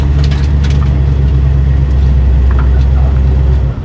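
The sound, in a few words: 1972 Dodge Dart engine running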